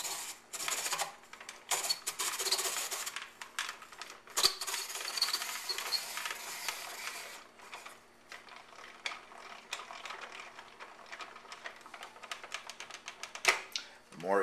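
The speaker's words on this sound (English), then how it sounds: "This one is a very inexpensive apple peeler made by Starfrit, and it does a very good job." A small, inexpensive Starfrit hand-crank apple peeler turns through an apple with a steady mechanical ratcheting and gear clatter, close and fairly quiet, with bursts of scraping peel noise and short pauses.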